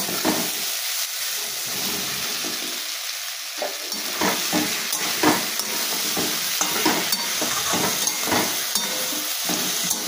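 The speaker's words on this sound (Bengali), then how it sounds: "এবার আমি মশলাটার মধ্যে সোয়াবিনটা দিয়ে ভালোভাবে কষিয়ে নেব।" Soybean chunks fry with potato, onion and spices in a pan, a constant sizzle and hiss under repeated scraping strokes of a spatula, close and fairly loud, with no voices.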